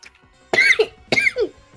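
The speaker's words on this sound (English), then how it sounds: "Is that a cough? Is it going to be a sneeze?" Two close, loud coughs come about half a second apart, each ending in a short voiced rasp, during a Minecraft Championship (MCCI) gaming stream.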